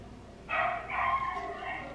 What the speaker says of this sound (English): There go that dog. Y'all hear it?